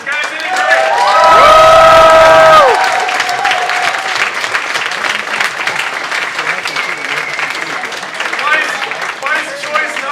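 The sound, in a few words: audience applause and cheering for quiz teams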